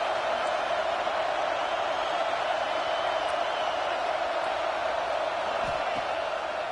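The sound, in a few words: stadium crowd noise in a college football video game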